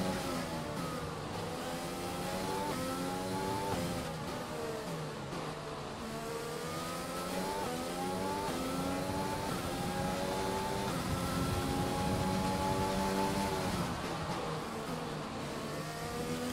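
A Formula 1 car's engine in the F1 2020 racing game, in a title fight between Schumacher and Bottas, screams continuously at high revs, its pitch rising and dipping through gear changes for the whole stretch, loud and steady.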